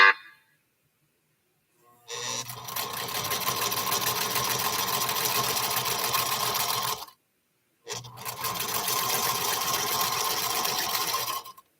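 A sewing machine stitching a quilt runs in two long, steady bursts of rapid mechanical whirring, loud and close, separated by a short pause.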